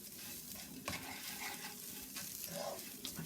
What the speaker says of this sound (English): we are literally just going to stir that in and just allow it to coat for